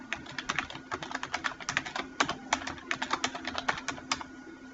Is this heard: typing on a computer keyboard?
yes